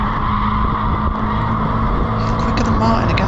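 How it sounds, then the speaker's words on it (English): A Mazda MX-5 club race car at Oulton Park braking hard for Old Hall corner and briefly locking a wheel. A loud steady engine drone carries a short tyre scrub near the end, with commentary running over it. "Braking for Old Hall, bit of a lock-up."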